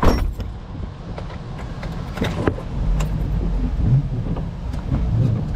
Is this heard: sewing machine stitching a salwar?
no